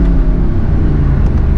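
Mercedes-AMG car engine accelerating hard with quick gear shifts, a loud, close, deep rumbling roar that stays heavy in the low end throughout, with brief breaks in the drone as gears change.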